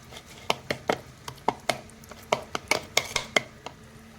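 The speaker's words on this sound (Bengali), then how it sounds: "ওদিকে চিকেন কষা চলছে আমি আর একবার চিকেনটাকে নেড়ে দিলাম" Chicken curry being stirred in a pan makes a rapid series of sharp, distinct knocks and scrapes of a utensil against the pan, about a dozen irregular hits close up, with no talking.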